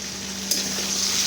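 Kashmiri red chili goes into a frying pan of sizzling oil for a spicy potato and poppy seed dish, with a brief burst of hiss over a steady close-up sizzle.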